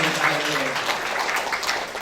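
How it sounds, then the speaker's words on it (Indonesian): Applause from a congregation at a Christmas church service, dense and continuous, moderately loud, with no speech over it. "Tepuk tangan bagi Allah."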